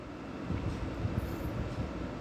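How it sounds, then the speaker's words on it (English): Steady low rumbling drone with a rhythmic chopping undertone, a helicopter sound demo played through a Sony HT-S20R soundbar with Dolby Digital, continuous and fairly loud throughout, no voices. "This is a helicopter demo."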